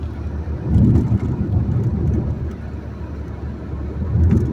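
Volkswagen Passat 2014 1.4 TSI Comfort Line engine under way, a steady low rumble of driving with engine and road noise swelling slightly around gear changes, close and continuous with no voices.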